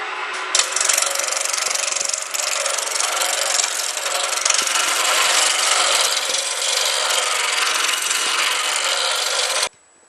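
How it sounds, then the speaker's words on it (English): A gouge roughing out a wood blank on a lathe, a loud continuous rasping scrape of the cutting tool against spinning wood that runs for about nine seconds and then stops abruptly. "The first tool that's going to be used is the gouge. This is used for roughing out, removing the majority of the material to true up the blank."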